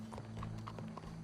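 Horse hooves clip-clop at a steady walking rhythm in Red Dead Redemption 2, a series of close, evenly spaced knocks over a low, constant background hum.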